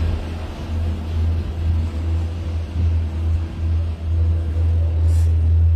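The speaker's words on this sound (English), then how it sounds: "Cars going by." Cars pass on a highway below a Disney Skyliner gondola, a steady low rumble of traffic heard from above, with a faint high squeak near the end and no talking.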